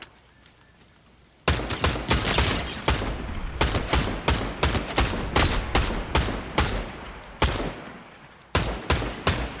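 Rapid bursts of AK rifle fire in Fortnite, loud and close, with sharp repeated shots in quick volleys after a brief quiet start, pausing briefly before a final flurry.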